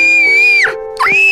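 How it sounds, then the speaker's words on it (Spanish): A young girl screams loudly in pain in an animated story, with two piercing, drawn-out shrieks broken by a short dip. "Pepa empezó a gritar muy fuerte de dolor"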